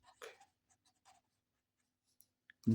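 A pen scratches out numbers by hand on paper, a few short soft strokes separated by pauses, close and quiet with near silence between them.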